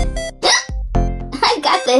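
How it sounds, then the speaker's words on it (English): A cartoon character in a children's spelling show hiccups, with short, sharp voiced jolts mixed in with squeaky vocal sounds close to the listener. "I got the hiccups."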